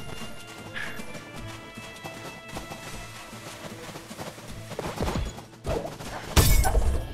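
Horse hooves clop in the video game My Time At Sandrock, an uneven run of hoof beats and game effects building to a loud crash near the end, with no talk.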